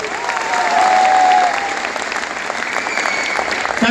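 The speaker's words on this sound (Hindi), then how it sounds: "जोरदार वाली ताली बजा दो" An audience breaks into loud applause at a Suncity Solar company speech event, a dense burst of clapping that swells in the first second and a half and then keeps going steadily.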